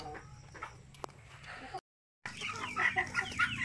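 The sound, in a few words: chickens clucking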